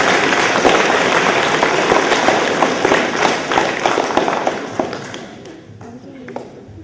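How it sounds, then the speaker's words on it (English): An audience applauds students at a school awards ceremony. Dense, sustained clapping fills the room, then thins and dies away over the final seconds. "And I think they deserve a big round of applause."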